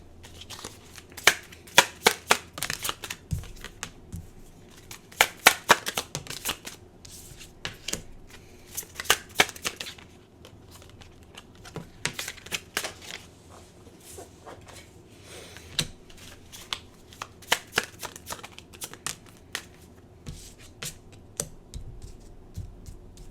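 Tarot cards being shuffled, with repeated bursts of crisp riffling and flicking close by. The bursts come in irregular clusters against a quiet room, and nobody speaks.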